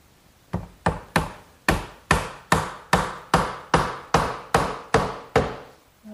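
Twelve evenly spaced, sharp hammer blows drive a 3/8 inch birch dowel into a glued hole in a 2x4 garden bench, each strike close and loud with a short ringing decay.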